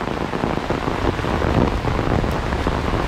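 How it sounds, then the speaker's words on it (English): Heavy rain pours down steadily outdoors in a dense, continuous hiss, loud and close with no talking. "Walking outside in the rain without an umbrella is actually really fun, especially when it comes down this hard."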